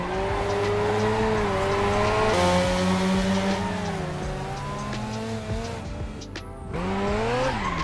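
Mazda RX-7 carving through mountain turns, its rotary engine droning loud and close as revs rise and fall, with a long tire squeal running over the engine and a brief lift-off dip near the end.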